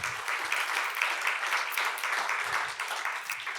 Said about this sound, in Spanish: Un aplauso para él también.